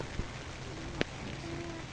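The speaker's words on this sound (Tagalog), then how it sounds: "Ayan guys, nandito tayo, umuulan." Steady rain falling outdoors, a soft continuous patter with a couple of sharper drop hits, fairly quiet and heard alone.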